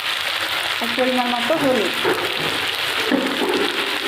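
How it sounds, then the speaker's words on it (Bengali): Potatoes fry in oil seasoned with panch phoron, dried chilli and bay leaf, giving a steady, close hiss and crackle while someone talks over it. "আলুগুলো আমি লাল লাল করে ভেজে নেব।"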